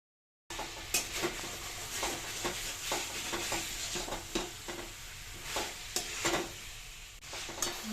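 Dahi chicken masala is sautéed and stirred in a pan, a soft frying sizzle broken by a regular series of scraping spoon strokes against the pan, fairly quiet and close.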